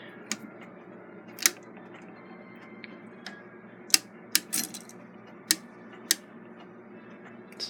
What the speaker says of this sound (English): this is the ratchet on the winder.